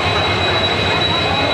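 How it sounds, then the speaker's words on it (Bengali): The Howrah–Chennai Central Express, train 12839, stands at the railway platform with a loud, steady rumble and a thin, high whine running throughout, close by and unbroken. "ট্রেন অলরেডি প্ল্যাটফর্মে প্রবেশ করে গেছে"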